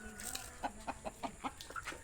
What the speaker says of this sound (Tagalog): Ayan o, okay, nagsisilapitan yung mga manok.